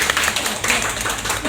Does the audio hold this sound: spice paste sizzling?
no